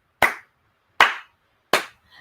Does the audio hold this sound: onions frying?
no